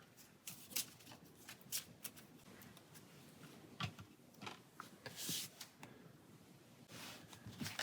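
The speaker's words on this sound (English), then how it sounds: "So that will get shuffled into our" Cards from the Pathfinder Adventure Card Game are shuffled into a deck on a tabletop: a run of quick riffling and soft tapping bursts, close and quiet.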